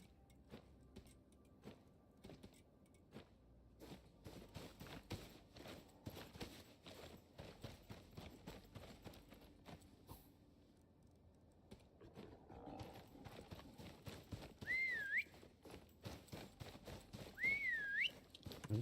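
In the Icarus video game, a horse's steady hoofbeats clop along for most of the stretch, then two rising whistles call it near the end over soft ambient game noise.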